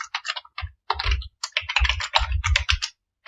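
Rapid typing on a computer keyboard while writing a configuration file, dense clattering keystrokes in irregular bursts with short pauses, close and fairly loud, no speech.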